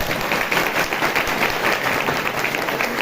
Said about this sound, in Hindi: ताली बजा के परमेश्वर का